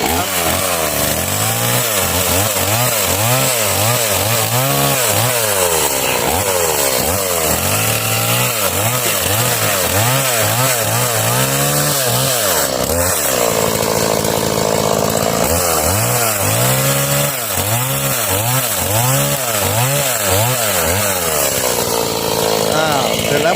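A powered saw cutting Sang Mon bamboo drones loudly in long, rising and falling passes, pausing briefly midway before cutting again, with harsh grinding noise throughout.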